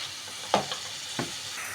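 Liver fries in a single pan with a quiet, steady sizzle, broken by two brief stirring scrapes; no one speaks.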